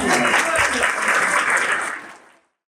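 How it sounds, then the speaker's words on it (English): A school annual function audience gives a dense round of applause, loud and steady for about two seconds before it cuts off abruptly into silence. "Please have a huge round of applause."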